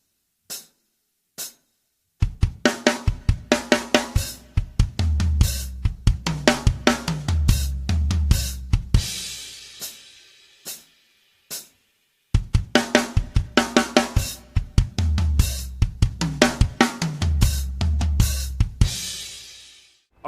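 A drum kit plays a fast fill lick, a few sparse hits leading into dense rolling strokes across toms, snare and kick that end in a cymbal crash, played through twice, close and loud with no talking.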